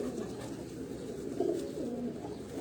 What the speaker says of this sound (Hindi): ये कबूतर है सारी बाजी